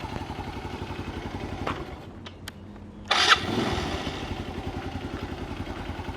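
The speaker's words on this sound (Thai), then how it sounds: "เป็นไงเสียงเครื่องนิ่มๆ" A Kawasaki KSR motorcycle engine idles with a steady chug, briefly cuts out, then cranks and fires back up with a sharp burst before settling into a smooth idle, the license plate rattling slightly.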